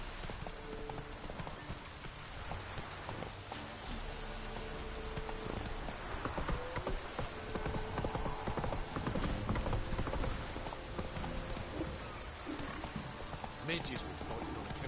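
Roach the horse trotting in The Witcher 3 video game, with a steady clip-clop of hooves in the rain and raindrops pattering throughout, while a voice talks over it.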